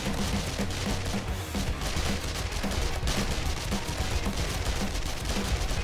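Submachine gun with an extended magazine firing nonstop at a zombie horde in a video game, a dense, loud barrage of rapid shots and impacts filling the whole stretch without pause.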